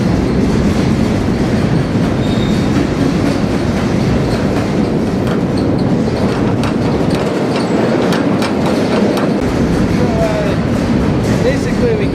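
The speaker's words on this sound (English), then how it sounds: "Now we're about to arrive back in Klamath Falls in this large boxcar." A freight train boxcar rolls on rails nearing Klamath Falls, a loud, constant rumble with rhythmic clickety-clack and occasional faint wheel squeal, heard from inside the car under some talk.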